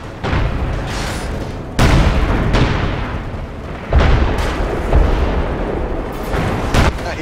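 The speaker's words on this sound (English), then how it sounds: "Railway cannon firing salvo." Railway cannon salvo in a video game: a run of heavy booming blasts, several big loud reports spaced a second or two apart, with rumbling battle noise filling the gaps.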